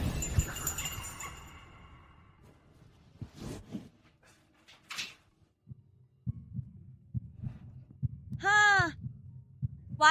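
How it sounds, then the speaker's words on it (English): Heartbeat sound effect: slow, heavy low thumps pulsing in a steady rhythm through a quiet room, with a brief whooping electronic swell near the end. "Why is my heart beating so fast?"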